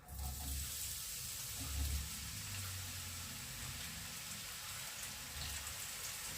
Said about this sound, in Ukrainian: Олійка розігрілась, викладаємо на сковорідку.